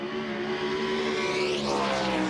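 A sprint car engine roars loud and sustained on a qualifying lap at Williams Grove Speedway, the pitch climbing and sweeping as it passes close by.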